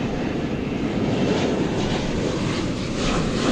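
An airplane departs a runway at DFW Airport, bound for San Francisco, its steady broadband engine roar holding loud and continuous throughout with no voices over it.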